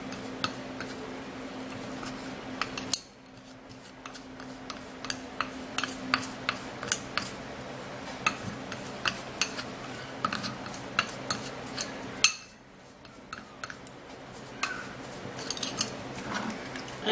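A spoon clinks and scrapes in a small bowl as rice powder is mixed into carrot oil, with steady light taps repeating over a quiet background hum and two brief pauses.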